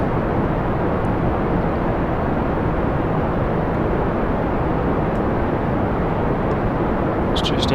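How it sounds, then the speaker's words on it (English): A rocket in Kerbal Space Program lifts off on a heavy launch, a dense, steady roar of engine noise filling the whole stretch at high volume without letup. "And we do have lift off."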